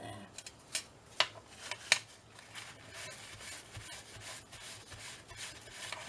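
Cleaner is rubbed by hand onto a journal cover, giving soft scuffing strokes with a few sharper taps early on, close and fairly quiet throughout.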